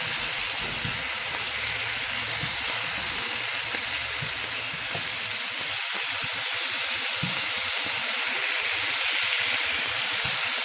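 Spare ribs sizzling in a covered pan with no oil as their own fat renders out, a loud, steady, dense hiss running unbroken the whole time.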